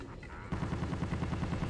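Rapid gunfire from enemies in Resident Evil 4 with the Life In Hell mod on the island, a dense burst of repeated shots that starts abruptly and continues loud and steady to the end.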